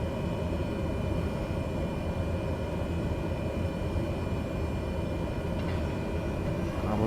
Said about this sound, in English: Jet 201 cleared for takeoff runway 22.